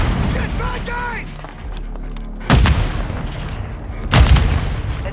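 In Call of Duty Warzone 2.0, two heavy booming blasts from grenade explosions and gunfire hit hard and close, a couple of seconds apart, amid in-game radio chatter and background battle noise.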